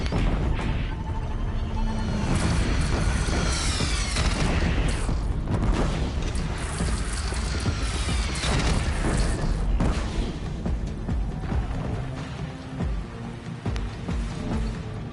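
Repeated heavy booms of cannon fire in Horizon Zero Dawn roll through a dense, noisy battle soundscape, loud and continuous with crashing impacts.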